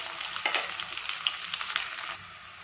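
Onion and cubed capsicum frying in a pan, a continuous close sizzle with crackling bursts and a few stirring scrapes, ending in a softer hiss.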